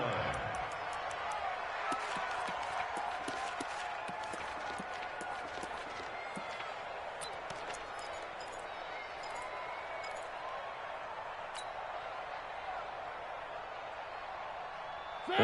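A stadium crowd in an American football video game on PS4 keeps up a steady, distant roar of cheering and noise for the whole stretch, with scattered clicks on top.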